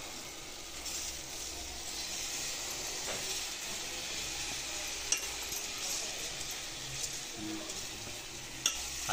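Rice is stirred in a hot frying pan, giving a steady soft sizzle and hiss with faint scraping and a few sharp clicks of the utensil against the pan, fairly quiet.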